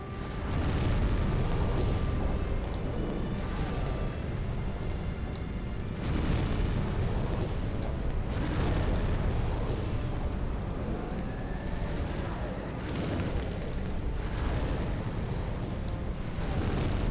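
The Flamelurker boss in Demon's Souls on PS3 unleashing near-continuous fiery explosions: dense, loud rumbling blasts that roll on and swell repeatedly, with sharper booms every few seconds.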